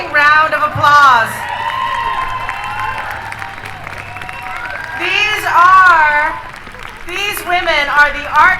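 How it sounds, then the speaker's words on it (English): A crowd applauds and cheers for a group of women at a community event in Roanoke, Southwest Virginia, with clapping, whoops and shouts swelling in bursts over several seconds amid voices. "Let's give them all another rousing round of applause."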